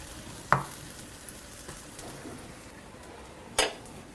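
An omelette sandwich fries in butter in a pan, giving a steady soft sizzle with two sharp clinks of a utensil against the pan near the start and end.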